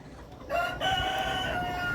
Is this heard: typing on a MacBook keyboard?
no